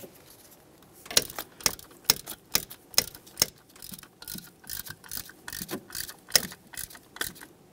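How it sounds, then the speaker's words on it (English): Torque wrench ratcheting on distributor mounting bolts of a 1999-2006 Chevrolet Silverado 1500 4.3L V6, a series of sharp close metallic clicks in irregular bursts. "Let's torque these to 18 inch pounds."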